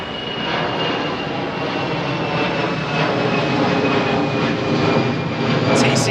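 A Boeing 787 jet departing overhead at London Heathrow, a loud steady roar of engines that swells slightly as it passes, continuous throughout without speech.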